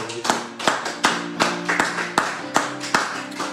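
Rhythmic clapping in a church prayer service, about ten sharp claps at a steady beat, loud and close, as though from a single pair of hands or a small group, with no speech over it.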